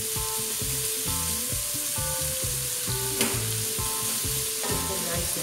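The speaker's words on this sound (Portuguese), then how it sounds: "Agora vou misturar a cebola com o alho" Chopped onion and garlic frying in a home kitchen pan for a family-size farofa with bacon and calabresa sausage, a continuous close sizzle under a steady background tone, with a faint clink partway through.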